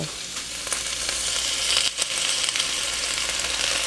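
Broth poured into vegetables frying in a pan for ginataang gulay, producing a steady bright sizzle and hiss with a few stirring sounds, heard alone at moderate loudness.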